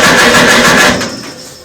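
A 1954 Farmall Super A tractor engine cranks over loudly and briskly for about a second without catching, then the sound drops away.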